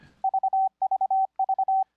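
Morse code audio generated by Fldigi sounds as a clean, steady single-pitch tone in three identical groups, each of four short dits followed by a long dah, crisp and isolated against silence.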